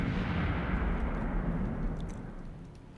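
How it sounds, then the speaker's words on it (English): Tanks and other weapons firing in the war game Graviteam Tactics, a heavy low rumble of distant artillery-like blasts that slowly fades, with no talking. "Tanks are firing."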